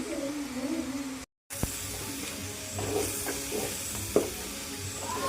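Shallots and onions sautéing with salt and curry leaves in a pan, a soft steady sizzle and hiss with occasional stirring scrapes and a few light clinks.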